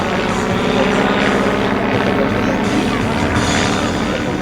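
Propeller aircraft flying in patrol formation at an airshow marking an aeroclub's centenary, a loud, steady engine drone that fills the whole stretch with a broad roar, without pause.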